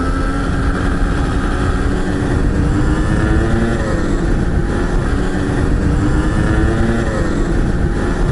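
A dirt bike engine idles steadily and loudly for the whole stretch, a constant close droning rumble with a wavering pitch and no talk over it.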